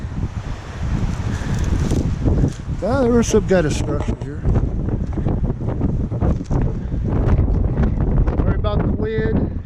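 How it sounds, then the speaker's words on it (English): Strong wind buffets the microphone high in the Sierra Nevada at an old mine site in Scandinavian Canyon, Alpine County, California, a constant roaring rumble with gusts while someone talks over it. "Sorry about the wind. Can't do nothing about it."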